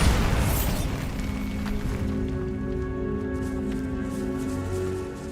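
In Hogwarts Legacy, the Bombarda spell goes off in a catacomb with a loud booming blast that opens the clip, then a rumbling tail that slowly fades.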